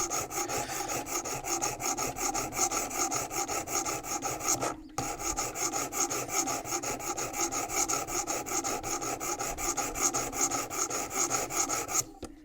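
A knife blade rasping on the abrasive of a WorkSharp Precision Adjust sharpener under light downward pressure, rapid rhythmic strokes repeating steadily and close, with one brief pause midway.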